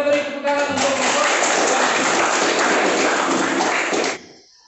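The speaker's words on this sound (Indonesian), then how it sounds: "kita beri tepuk tangan untuk kelompok" Applause for a student presentation group in a classroom: a dense, steady wash of hand claps from many people, loud and continuous for about four seconds before stopping abruptly.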